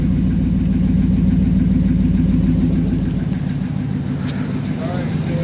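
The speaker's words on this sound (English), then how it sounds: "See if we can hear that exhaust a little bit." A car engine idles with a steady, low rumbling exhaust, close and loud, running continuously with no voices.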